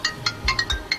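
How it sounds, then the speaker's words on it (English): A phone ringtone plays in a dramatic home scene, sounding as a few short, clear electronic chirps repeated in a quick, bright rhythm, close and fairly loud with no talking over it. "Your phone is ringing, oh."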